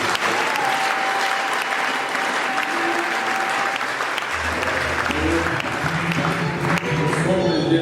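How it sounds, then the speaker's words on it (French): A church congregation applauds loudly and steadily for several seconds, a dense wash of clapping with crowd voices mixed in and music or singing rising near the end. "Est-ce qu'on peut acclamer encore très fort?"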